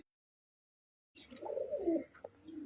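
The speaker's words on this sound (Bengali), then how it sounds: "দর্শক বন্ধু আমার দেখতে পাচ্ছেন এরপর আরো একজন কবুতর আছে" Jacobin pigeons coo softly in a pigeon collection, a short burst of low, rolling coos that begins after a moment of silence and fades near the end.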